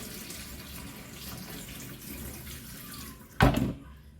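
Tap water runs steadily while rice is rinsed, a constant close hiss broken near the end by a sudden louder splash and clatter.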